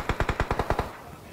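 Rapid automatic gunfire in the mobile battle royale game Battlegrounds Mobile India, about eight sharp evenly spaced shots in a quick burst that stops abruptly.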